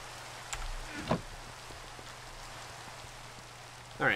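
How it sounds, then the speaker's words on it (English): Steady rain falls in the Minecraft modpack Enigmatica 2, a constant faint hiss throughout with a few brief louder game sounds near the start and end. "let me head back to base and get rid of the rain"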